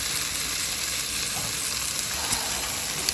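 Bacon and sausages sizzle on a Blackstone camp stove griddle outdoors, a steady broadband hiss with occasional small pops, alone and fairly close.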